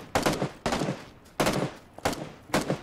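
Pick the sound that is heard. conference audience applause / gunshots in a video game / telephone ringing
gunshots in a video game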